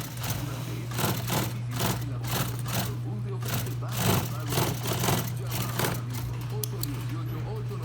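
Sewing machines whir in a dirt bike seat cover workshop, running in repeated short bursts over a steady electrical hum, with someone talking over the busy shop noise.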